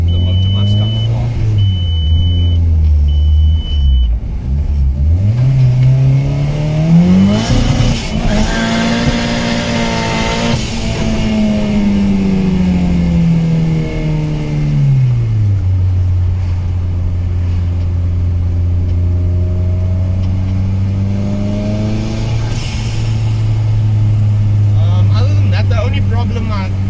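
VW Mk1 Golf with a turbocharged engine revving loudly up and back down close by, one long sweep in the middle between steadier idle-like stretches, with speech over it.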